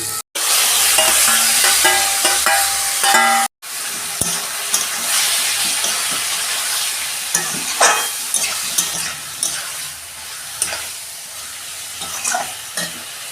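Vegetables frying in hot oil with green chilli and cooked-down spice masala, a loud steady sizzle with intermittent stirring scrapes and taps, close up and continuous for the whole stretch.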